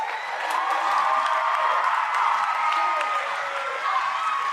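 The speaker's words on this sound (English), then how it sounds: "please give a round of applause for the TTMS 8th grade class of 2023" A school concert audience applauds the TTMS 8th grade class of 2023 at a middle school spring concert, a sustained bright clapping with some cheering that carries steadily throughout.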